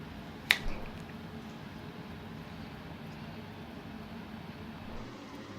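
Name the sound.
finger snap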